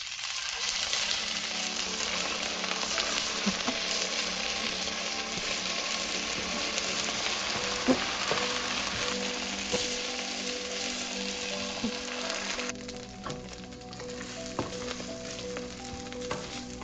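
Ginger garlic paste fries and is stirred in a pan for a pork curry masala, a loud continuous sizzle with metallic scrapes and light clinks, easing off somewhat toward the end.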